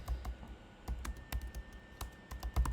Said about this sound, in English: So you can type in the sticky note.